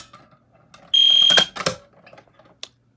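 A fire alarm bursts on loud and piercing for about half a second, then gives way to a few sharp, clattering hits and quieter scattered noise, with a brief chirp near the end.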